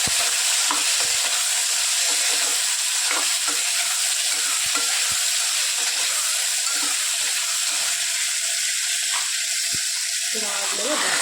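Tomatoes frying in oil in a pan for a rice bath dish sizzle steadily while a spoon stirs and scrapes with frequent clinks, close and continuous.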